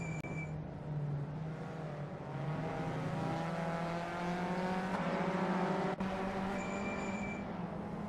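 Race cars in a VW Up Cup race hold a steady, droning engine note as they circle the track, with rising and falling pitch from gear changes and a dense mechanical hum throughout.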